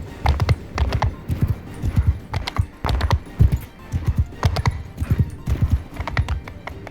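Horse hooves in the Bannerlord video game, a loud, close, steady clip-clop of repeated hoof strikes in an even walking rhythm throughout.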